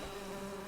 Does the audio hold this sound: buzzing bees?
yes